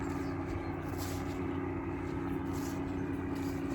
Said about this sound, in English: it's a glider guy. That's what I'm hearing right now